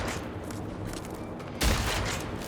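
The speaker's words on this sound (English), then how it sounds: "For what reason are we shooting at it?" Dense, rapid gunfire in the open-world shooter Generation Zero, a continuous rattling volley that swells louder near the end.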